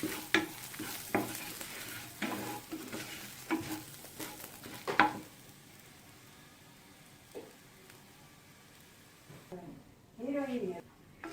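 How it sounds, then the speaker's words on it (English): Garlic cloves stir and roast in a pan, with scraping strokes and soft sizzling in close, irregular bursts, then a quieter stretch before a final clatter of stirring. "So I'm just roasting them. We want the garlic to turn a little brown, that's it."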